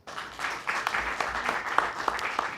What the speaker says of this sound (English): Anybody familiar with Sister Dean by applause